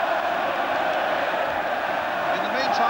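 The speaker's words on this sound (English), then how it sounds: "the Spurs fans in this big and noisy crowd salute him" Spurs fans in a big, noisy football crowd at a 1987 Littlewoods Cup semi-final replay against Arsenal, a steady roar of massed cheering and chanting throughout, heard from a distance with no clear breaks.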